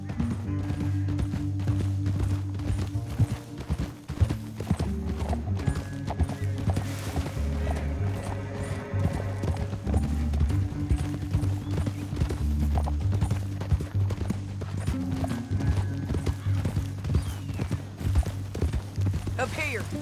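A horse gallops in Red Dead Redemption 2, rapid rhythmic hoofbeats clip-clopping steadily throughout under a musical score, with occasional whinnies and characters talking over the ride.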